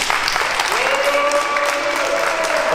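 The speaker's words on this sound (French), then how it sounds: "vous pouvez réserver un tonnerre d'applaudissements pour les deux équipes" Audience at a press conference applauding both teams, continuous crowd clapping with some voices and a faint tonal whistle-like sound mixed in.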